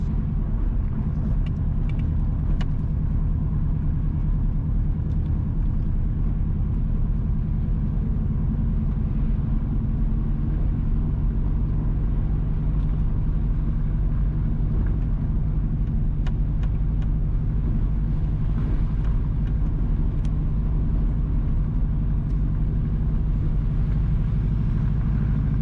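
Car driving along the Fairy Hill to Nonsuch Road in Portland, Jamaica, a constant loud low rumble of engine and road noise heard from inside, steady throughout with occasional light rattles.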